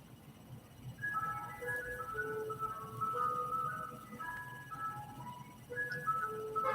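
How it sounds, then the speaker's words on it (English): An ice cream truck plays its melodic jingle outside, the tune moderately loud and continuous over a low background rumble, with no talking. "That ice cream truck is in it to win it right now."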